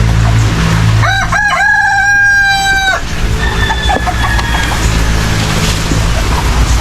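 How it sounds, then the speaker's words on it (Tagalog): A farmyard chicken near a new house clucks and calls loudly and close by, with a rooster's drawn-out crow rising early on over steady background noise. "Yan ang manok yan."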